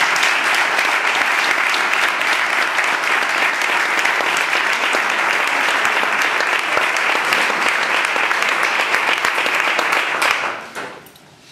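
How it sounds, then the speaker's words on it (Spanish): Sustained, loud audience applause at a memorial concert tribute, dense and steady throughout before stopping abruptly near the end and fading to quiet. "Un aplauso."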